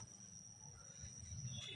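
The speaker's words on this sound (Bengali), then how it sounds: "ট্রেন আসতেছে এদিকে" A passenger train approaching a rural stretch of track, heard as a faint, distant low rumble with a thin, steady high whine over it.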